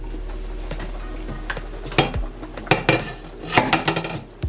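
Curry chicken feet, Jamaican style, being stirred in a pot: a series of sharp metal spoon clanks and scrapes against the pot over a low background hum, close and fairly loud, with no talking.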